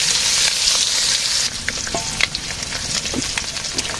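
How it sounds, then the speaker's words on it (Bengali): Fish frying in a pan in a village kitchen, a steady loud sizzle and crackle with occasional stirring clicks and pops, no talk. "মাছটা ভাজি আস্তে আস্তে।"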